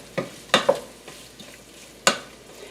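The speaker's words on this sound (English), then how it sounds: "Just mixing it around to cover it in the butter and olive oil." Kielbasa being stirred in a hot pan of butter and olive oil, with a few sharp scrapes and knocks of the utensil over a faint sizzle, close by.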